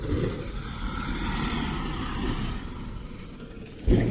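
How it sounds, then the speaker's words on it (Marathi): A milk delivery truck rolls past on a straight village road in the morning, a steady broadband engine and tyre rumble that holds for several seconds, then a sharp louder burst near the end. "दुधाची गाडी येईल, दुधाची."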